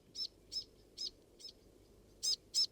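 A small wild bird in a New Zealand garden gives short, high chirps, about six evenly spaced notes with a brief pause before the last two, close and clear over quiet background.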